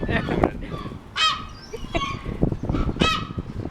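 Seagulls call with sharp, rising squawks at a beach as people feed them, several distinct cries standing out close by over background talk.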